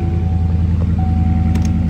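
A truck engine runs nearby with a steady low rumble and faint rhythmic ticking, and a thin whine rises briefly partway through.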